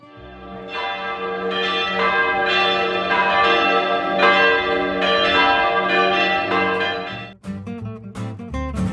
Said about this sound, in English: you can hear the bells ring every hour